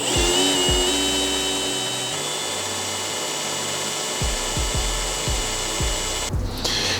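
A power drill whines steadily and loudly, with repeated low thumps as the bit bites into a Mazda RX-8 engine part, ending in a brief burst of noise.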